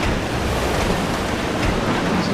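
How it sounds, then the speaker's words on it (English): Steady, loud rushing wind with a broad roar, heard from the top of a moving train in the video game Resident Evil 0, continuous and unbroken throughout with no voices. "It's very windy up here."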